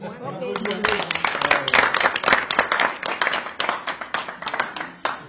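Meeting participants clap together in a room, a loud close burst of many hands with uneven, sharp individual claps, while voices talk over the applause.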